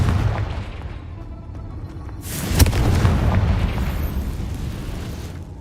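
A Confringo blasting spell explodes in Hogwarts Legacy: a single loud, sharp burst that rumbles on and fades, with quieter game ambience before it.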